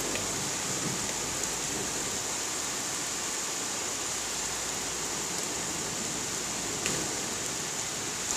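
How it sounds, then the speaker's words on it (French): Heavy rain pours steadily during a violent thunderstorm in Carpentras, a dense, even hiss with no distinct thunder claps and no voices. "On va pouvoir filmer l'orage maintenant."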